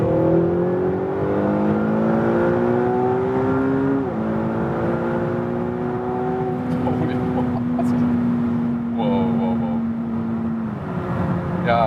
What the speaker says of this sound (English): But the kickdown with this 7-speed dual clutch transmission is also easily done.